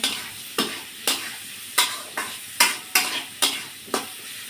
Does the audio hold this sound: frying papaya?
yes